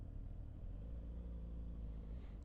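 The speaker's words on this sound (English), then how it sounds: "I guess this is where all the traffic is." Road traffic is heard from a moving motorcycle on a highway, a continuous low engine and road rumble, steady and fairly quiet with no talking.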